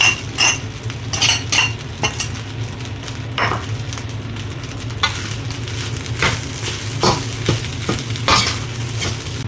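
Fried rice with carrots, garlic and egg tossed in a pan, with sharp metal spatula scrapes and clanks over a constant low frying hiss, close and loud, no voices.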